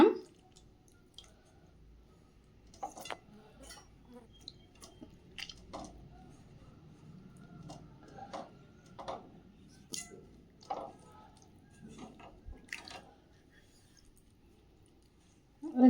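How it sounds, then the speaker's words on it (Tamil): Small native tomatoes are squished and crushed by hand for tomato rasam, giving soft wet squelches and ticks in irregular bursts, close but quiet, with no talking. "3 நாட்டு தக்காளி இதை கையிலையே கரைச்சி விட்டுக்கோங்க."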